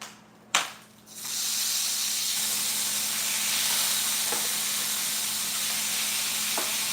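Vegetables drop into a hot pan for a Chipotle-style beef bowl with a sharp clatter, then a loud, steady sizzle hisses on alone with a couple of faint clicks from tongs.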